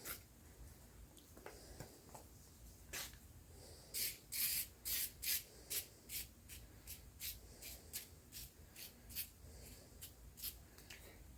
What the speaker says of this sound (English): dump these seeds out to where I can separate them out and pick out the ones that I need